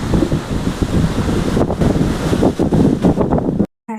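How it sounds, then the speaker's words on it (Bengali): Wind-driven rain at a flooded sea shore, a loud, close roar of gusting air and rushing water buffeting the microphone, ending in a sudden brief silence. "আর তেমনি পড়ছে বৃষ্টি।"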